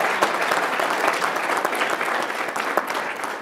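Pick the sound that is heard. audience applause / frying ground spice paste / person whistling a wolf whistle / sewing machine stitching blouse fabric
audience applause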